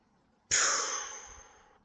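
A single deep breath out during a guided energy-cleansing exercise, a soft airy whoosh that starts abruptly and fades gradually over about a second, close and alone in a quiet room.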